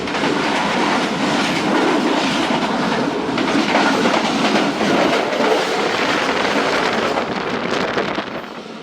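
The Khyber Mail passenger train passes at high speed near the Kot Radha Kishan line in Pakistan, a loud, close roar of rolling wheels and rattling carriages with clickety-clack and wind buffeting, fading slightly at the end.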